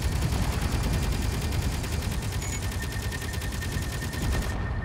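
Rapid automatic gunfire from the Monarch ship in a space combat video game, shooting at ships in a hangar bay: a continuous dense stream of shots, steady and fairly loud throughout.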